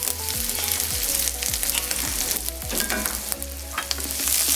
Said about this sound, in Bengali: পেঁয়াজ কুচি রসুনের কুচি আমরা তেলের সাথে ভালো করে বেঁচে দিব